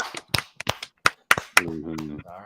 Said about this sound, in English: Give him a clap. A round of applause.